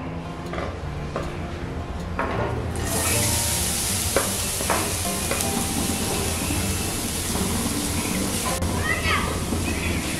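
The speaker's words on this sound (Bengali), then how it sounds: "এই সময় আমি ফ্রাইং প্যানের মধ্যে দিয়ে দিচ্ছি গ্রেট করে রাখা গাজর।" Grated carrot hits hot ghee in a frying pan and sizzles steadily, with a loud, constant hiss and the scrape of stirring that runs the whole time.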